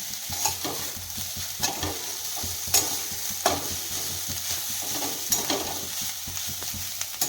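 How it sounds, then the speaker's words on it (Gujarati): Leftover rice being stirred in a hot pan of Schezwan sauce over a high flame, continuous sizzling with repeated scraping strokes of a spatula, close up, no talking. "તેને 5 મિનિટ સુધી ફાસ્ટ ગેસ ઉપર હલાવતા રહેવાનું છે."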